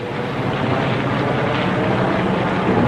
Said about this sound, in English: The first wave of planes leaves in rapid succession from the flight decks of Kaga, Hiryu, Soryu, and Akagi.